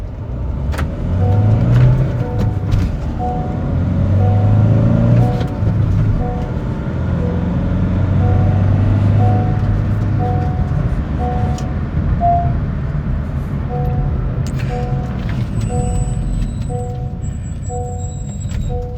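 A Honda City car with a 100 bhp engine pulls away in first gear and accelerates, its engine droning loud and steady from inside the cabin, with a faint whine rising and falling throughout.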